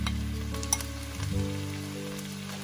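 Tofu strips sizzling in a hot pan for vegan pad thai with konjac noodles, a steady close crackle with a brief stirring knock, no voices.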